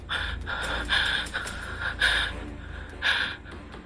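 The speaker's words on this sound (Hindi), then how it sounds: "आयशा नींद से उठकर जोर जोर से हाँफ रही थी, जैसे कि कोई बुरा सपना देखा हो" A woman pants heavily after waking from a bad dream, a close run of loud, ragged gasping breaths in uneven bursts with no talk.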